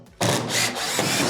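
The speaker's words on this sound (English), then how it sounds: "We want to go ahead and remove the screws so we can access the components on the inside of the washer." A power drill backs Phillips screws out of the service panel of a Frigidaire washer, with a brief close whirring burst that starts abruptly and holds steady.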